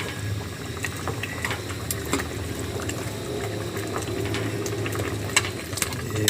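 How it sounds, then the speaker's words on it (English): A pot of bago tree leaves at a rolling boil on a stove, with a constant bubbling and sizzling texture, scattered pops and clicks, and no voices. "it's boiling."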